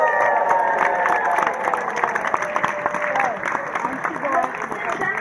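An audience applauds and cheers after a live Disney Junior book reading, with dense, loud clapping mixed with crowd voices and some children shouting, sustained throughout.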